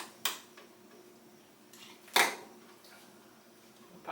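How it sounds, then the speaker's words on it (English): A utility knife pries a small plastic cap off the laser housing of a Kobalt 10-inch sliding compound miter saw, giving two sharp, close snapping clicks about two seconds apart against near silence. "I'm just going to pop that little cap off."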